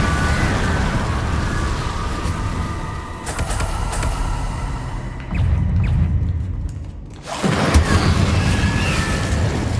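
Spell explosions from the Confringo fire spell in the video game Hogwarts Legacy, a dense run of booming blasts and rumble over continuous game noise, with a brief lull before a fresh loud burst.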